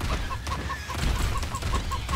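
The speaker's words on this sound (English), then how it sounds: "I'm gonna see if I can aggro the chicken a little bit." A giant chicken in the game Kaiju BR clucks in a quick, regular series of short, evenly spaced clucks over a rumbling game background.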